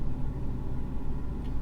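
A truck engine idles steadily after an oil change, a low continuous rumble that holds even and close throughout, with no talking.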